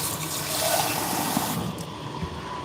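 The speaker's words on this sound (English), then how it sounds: "Let me first get some cold water" Cold water runs from a kitchen tap in a steady, close stream while an espresso machine is being cleaned, with no voices over it.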